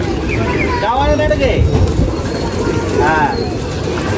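Pigeons coo twice, briefly and somewhat distant, at a pigeon-flying gathering at a CIDCO festival in Vadala, Nashik, under a loud, steady crowd and outdoor noise, with someone talking nearby.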